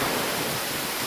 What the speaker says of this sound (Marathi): एकदम खतरनाक पाऊस पडतोय।